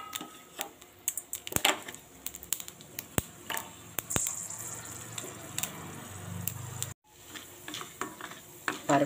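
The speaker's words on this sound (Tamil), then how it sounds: "பருப்பு ரோஸ்ட் ஆகிட்டுருக்கு" Urad dal and chana dal roasting dry in a pan, a steady soft sizzle broken by frequent scraping and stirring clicks, close by, with no talk.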